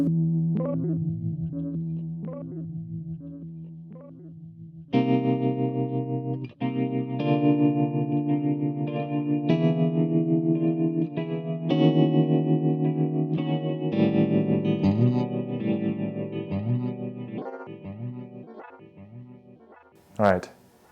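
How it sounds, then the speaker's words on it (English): Tape echo effect on a Donner MultiPad-100, sustained distorted notes and chords with repeating echoes trailing behind each attack, loud and close, the last notes fading out into short decaying repeats. "And then a tape echo."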